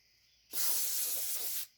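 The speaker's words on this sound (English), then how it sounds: "a brake press cleaner on the towel" Brake parts cleaner sprays onto a shop towel in one loud, close hiss lasting just over a second, starting and stopping abruptly.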